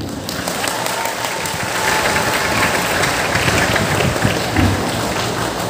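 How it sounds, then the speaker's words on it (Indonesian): A large crowd at a political gathering for Pak Herman, a candidate for Bupati of Inhil, breaks into loud, sustained applause that swells and keeps going for several seconds. "Beri aplaus dulu untuk Pak Herman."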